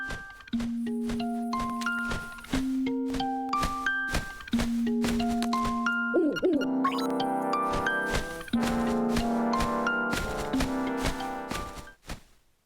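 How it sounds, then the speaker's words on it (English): The owl's dialogue in a handheld Zelda game plays as a string of stepped electronic text-scroll beeps, first sparse and even, then thicker and layered with music-like tones, ending abruptly. "But for now, the owl's going to talk to us."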